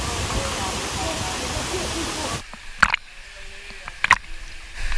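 The Salto del Limón waterfall in the Dominican Republic roars as a steady, loud rushing hiss for the first half, then cuts to a quieter scene with a few sharp knocks and splashes.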